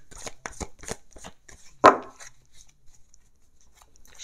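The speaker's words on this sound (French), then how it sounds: "Je fais un tirage en 9 cartes." Oracle mirror cards are shuffled and laid out for a nine-card spread: a run of quick, close taps and flicks, then one louder slap of a card, followed by softer rustles.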